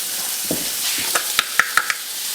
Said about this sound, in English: We're going to saute the garlic for just about 30 or 45 seconds